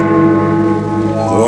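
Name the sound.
church bell striking one o'clock, radio drama effect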